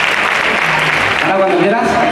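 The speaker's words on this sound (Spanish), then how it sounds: "Un fuerte aplauso para ella, por favor." Brief loud applause from an audience at a calisthenics demonstration, a dense wash of clapping for a performer, with a voice starting to speak as it dies down.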